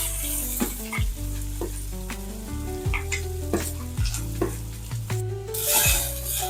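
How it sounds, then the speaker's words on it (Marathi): Chopped onion sizzling and frying in hot oil in a pan for daliya, a steady close crackle broken by repeated scraping stirs of a spoon, with no talking. "कांदा व्यवस्थित असं परतून घेऊ."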